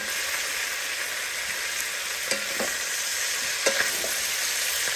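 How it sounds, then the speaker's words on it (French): Onions frying in a pan for a chicken curry, a steady close hiss of sizzling oil with a few faint clicks of stirring, no voices. "Là, je vais mettre les oignons."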